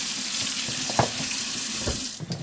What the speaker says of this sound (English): I'm just going to rinse these out